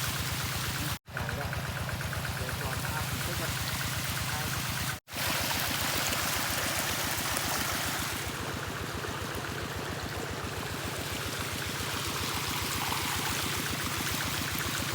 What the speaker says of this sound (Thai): น้ำไหลแล้ว